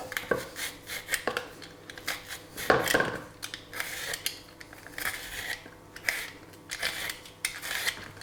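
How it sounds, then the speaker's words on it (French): A knife scraping and cutting along a halved yam while peeling it, a run of close, uneven rasping strokes with one louder scrape partway through, no speech. "On va la peler."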